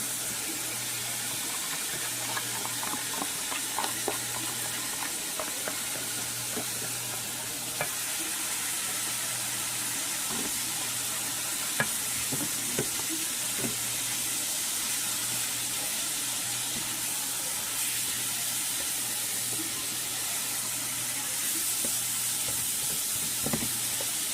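Chopped green pepper and onion frying with ground beef in a pan, giving a steady, even hiss of sizzling throughout with faint scattered spatters and an occasional light stir, moderately close, no talk.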